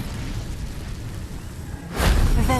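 The Incendio fire spell cast in Hogwarts Legacy erupts as a sudden loud fiery burst with a rumbling whoosh near the end, following a stretch of low steady ambience.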